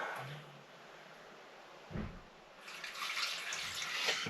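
Liquid poured into the fuel tank of a BMW 1150 GS motorcycle, a faint trickling and splashing that swells louder toward the end, with a brief thud partway through and no talking.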